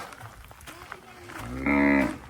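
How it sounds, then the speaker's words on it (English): A cow moos once on a neighboring property at a house construction site in the Philippines, a loud, harmonic bellow near the end, preceded by faint outdoor background noise. "Neighbor cow."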